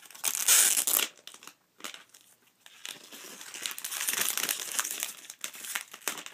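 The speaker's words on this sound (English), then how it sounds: "I'm going to go ahead and take this out of the plastic" Plastic wrap crinkling and tearing as a new iPad 3 is unwrapped, loud crackly bursts up close at first, then a brief pause and continued rustling handling of the plastic.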